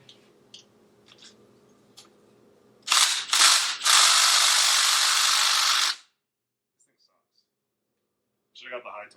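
A Milwaukee M18 impact wrench hammers at an engine bolt during a Honda K-series block teardown, a loud burst of rattling impacts running about three seconds, with people talking before and after.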